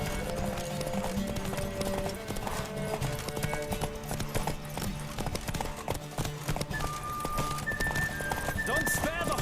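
A horse galloping in a race in The Witcher 3, rapid rhythmic hoofbeats pounding continuously up close amid a neigh and other game sounds, with someone shouting over the action.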